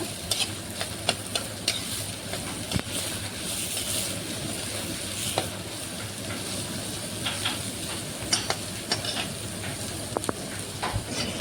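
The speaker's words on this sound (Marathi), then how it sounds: "कांदा पण भाजून घ्यायचा आहे गुलाबी रंग येईपर्यंत।" Onion fries in a pan until it turns pink, a steady close hiss and sizzle broken by frequent sharp clicks and scrapes from stirring.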